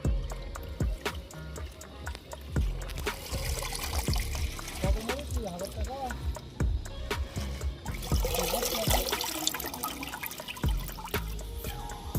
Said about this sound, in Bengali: পালং শাকগুলো ভালো করে ধুয়ে নেব।